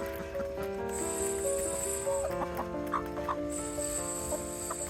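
Young chickens clucking around an Easter gift, several close soft clucks and chirps repeating over a steady background hum.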